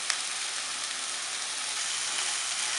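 A chicken breast steak marinated in milk and black pepper fries in a little oil in a pan, giving a steady, even sizzle that carries on throughout.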